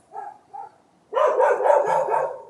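Dogs bark, starting with two soft distant woofs and then a longer louder burst of overlapping close barking and yips.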